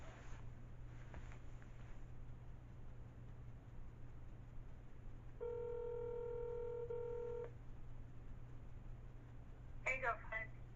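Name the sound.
telephone dialing to call back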